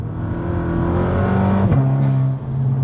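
Engine and intake of a VW Polo GTI Clubsport under acceleration, a loud continuous drone that rises and then drops at a gear shift, with no talk over it.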